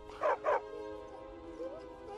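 A dog in the video game Skyrim gives two quick, loud barks close together, then falls quiet over a low background hum.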